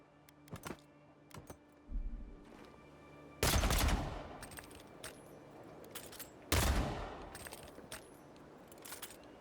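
Pistol gunfire in the video game Avowed: two loud, sharp blasts a few seconds apart with ringing tails, among scattered small clicks and taps, close and with no voices.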